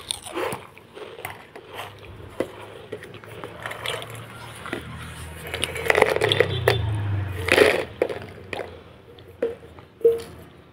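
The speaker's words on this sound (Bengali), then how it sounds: "এবার সব মশলার সাথে নুডলসগুলো মিশিয়ে নেব ভালো করে।" Noodles are tossed with spices in a pan, giving soft squishy stirring and scraping with a few sharper clacks and a low steady hum. No one speaks.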